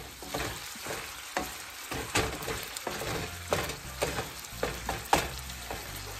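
Ground beef browns in a hot pan for a gluten-free spaghetti pie, with steady sizzling and frying crackle broken by repeated scraping and stirring sounds.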